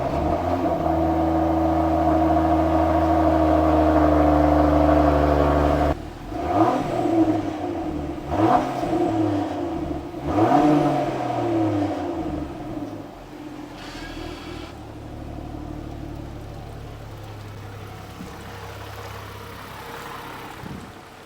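Land Rover Defender engine running steadily while driving, then several revving surges rising and falling in pitch, followed by a quieter steady drone; close and fairly loud with no speech.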